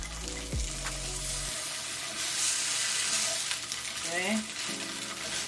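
Tofu fries in a pan with a steady sizzle and stir-like scraping throughout, after a short low thump near the start; one brief word is spoken over it.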